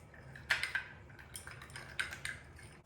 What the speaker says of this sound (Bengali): এখন আমি সবগুলোকে একসাথে মিশিয়ে নেব।